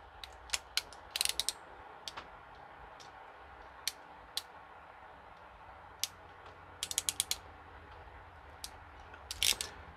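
Ratcheting crimping tool clamping a connector onto LED light wiring in a cargo trailer, sharp dry clicks in scattered bursts and short rapid runs over a quiet background hiss.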